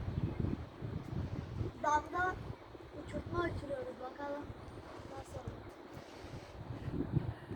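Gusty wind rushes and rumbles across the microphone outdoors during kite flying, a steady low roar running under several voices talking throughout.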